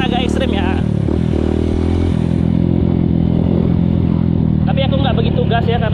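A dirt bike on Dunlop DGX 01 tires riding an extreme trail, its engine droning and clattering steadily throughout, with someone talking over it.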